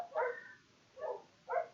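Dogs barking outside a closed window, three muffled barks spaced apart, moderately distant and fairly faint, with no voices over them.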